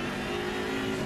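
Steady, loud race car engine drone in Assetto Corsa Competizione during a GSR sprint series race, holding a constant high-pitched tone with no talk.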